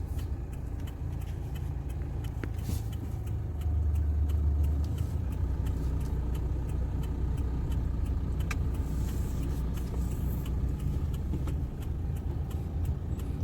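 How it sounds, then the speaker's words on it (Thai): A car drives in slowly with a steady, mid-level engine drone and road rumble that swells a little partway through, along with faint clicks and rattles nearby. "รถเข้าไปก่อน"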